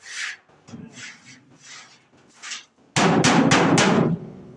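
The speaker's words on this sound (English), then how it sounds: "let's take that hammer and tap that back down" A hammer taps a dent back down on a wagon: softer scraping and knocking first, then a loud close cluster of several quick metallic strikes.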